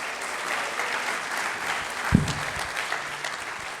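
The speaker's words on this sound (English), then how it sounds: "so we could give him a nice round of applause as well" An audience at a high school honors convocation applauds in a steady, dense wash of clapping that holds evenly from start to finish, with a single louder knock partway through.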